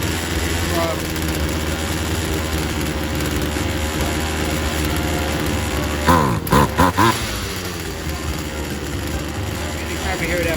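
A Poulan Wild Thing 2375 chainsaw runs close by at a steady, buzzing idle, briefly revving and bogging in a few uneven bursts near the end as the throttle is raised.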